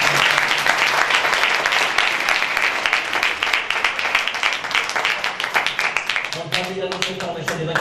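A church congregation at a Christmas service in Ambgarh, Jalandhar gives the children a loud, sustained round of applause, dense clapping filling the room before it thins out near the end as voices and music come in.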